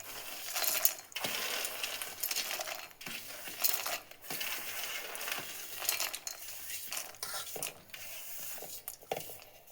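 Dry-roasted ingredients for a homemade health drink powder poured all at once into a mixer grinder jar, a dense rattling patter of small hard grains tumbling and clattering against the jar, close and continuous with brief pauses, no voices.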